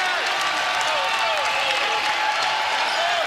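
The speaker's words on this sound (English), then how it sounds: "So the crowd at Maples Pavilion trying to rally the home team in the final 2." A packed home crowd at Maples Pavilion roars and cheers through the final minutes of a close college basketball game, a loud, sustained wall of noise with whistles and shouts riding on top.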